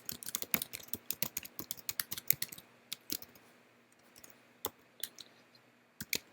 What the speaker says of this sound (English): So maybe I'm just going to type that